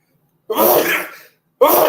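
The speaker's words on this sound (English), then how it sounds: "Pardon about me sneezing." A sharp, loud sneeze bursts out close by after silence, followed by the start of a second sneeze at the end.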